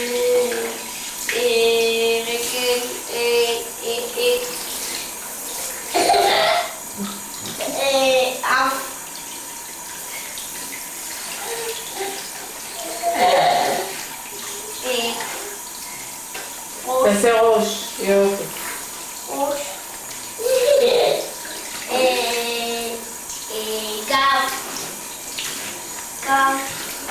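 Water splashes and sloshes in a bathtub while voices talk and call out over it throughout, with bursts of louder activity.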